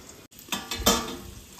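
Eggplant sautés in oil in a pan for a spiced eggplant masala, with a faint sizzle and a few soft scraping clinks from stirring, close and brief.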